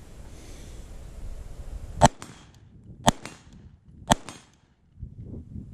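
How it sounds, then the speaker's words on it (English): An LMT short-barreled rifle fires three sharp, loud shots about a second apart with no suppressor. The cracks are close and stand alone with no talking. "So I'm going to shoot this guy and see how she does without the suppressor."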